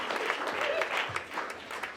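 An audience at the Black Moving Conference claps for about two seconds, a moderate scatter of hands with a voice briefly audible partway through.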